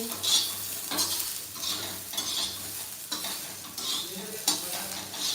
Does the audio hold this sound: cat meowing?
no